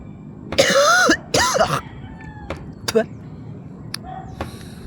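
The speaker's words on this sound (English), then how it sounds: "My cough is really bad, man." Two harsh, raspy bursts of coughing close to the mic, followed by a few short, fainter throat sounds and clicks in a quiet room.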